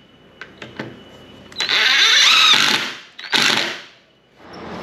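A power drill drives screws into plywood during a downstairs apartment renovation, with a few quiet clicks and then two loud whirring runs, the second shorter, in a quiet room.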